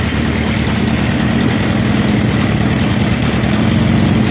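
A 1979 Honda CB650 motorcycle engine idles steadily after starting, a loud, close, continuous rumbling drone with an even mechanical pulse throughout.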